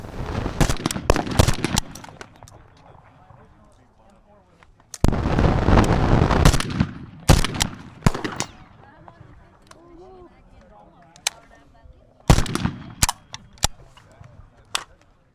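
Sharp, loud gunshot cracks ring out at a night shoot with a Thundercracker, coming in irregular bursts: scattered single bangs, then a dense, sustained volley, then more isolated shots, with voices talking between them.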